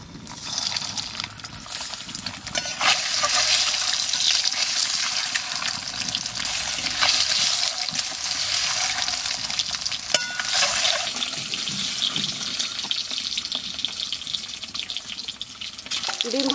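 Food fries in a hot wok with only a little oil, making a continuous close crackling sizzle with occasional scrapes and clicks from stirring, and no voices.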